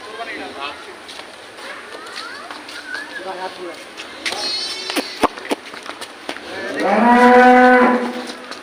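A cow on a farm lets out a long, loud moo near the end, after a stretch of people talking and some scattered knocks and shuffling nearby.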